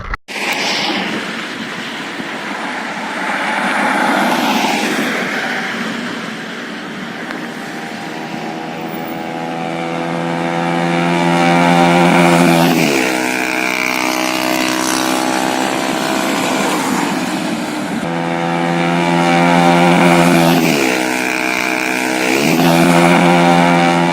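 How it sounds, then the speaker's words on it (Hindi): A modified Yamaha R15 motorcycle fitted with a Leo Vince exhaust makes loud passes, its engine note rising and falling in long revving sweeps with sharp drops as it roars by, no voices. "अभी फ्लाईबाई का वीडियो ले लिया है। You can see the exhaust sound"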